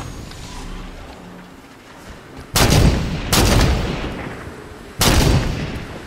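Halo 5 battle gunfire: after a low rumbling lull, three loud sharp bursts of weapon fire hit close by in quick succession, each trailing into a brief decaying rumble.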